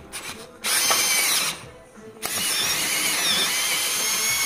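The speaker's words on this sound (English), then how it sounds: "after I drill this one and jam it." A power drill whines loudly while boring a bolt hole in a G37 car, running in two long bursts with a short pause between them.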